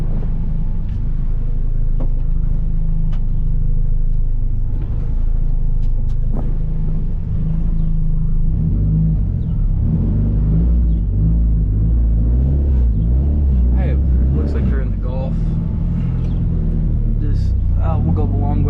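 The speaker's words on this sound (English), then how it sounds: "We're gonna go around the street block, not just around the neighborhood. Get a little bit of speed and RPM into the motor." A race-prepped car cruises around a street block, its engine rumbling steadily and loud throughout, with people talking over the motor noise.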